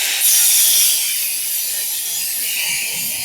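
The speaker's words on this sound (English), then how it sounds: "I'm going to rip this piece of plywood in half" A sheet of plywood being ripped in half with a saw, heard as a continuous bright, rough cutting noise that holds steady and close for several seconds.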